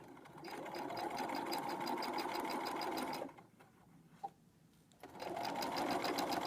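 A sewing machine runs close by, stitching a pocket seam in two runs split by a short pause with a small click, a steady rapid mechanical whir.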